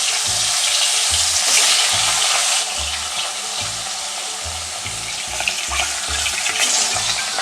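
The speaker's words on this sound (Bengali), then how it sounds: "কড়াইতে দিয়ে দিচ্ছি সর্ষের তেল, দিয়ে দিচ্ছি রুই মাছের পিস।" Rohu fish pieces fry steadily in hot mustard oil in a kadai, a loud continuous sizzle with occasional stirring and scraping in the pan.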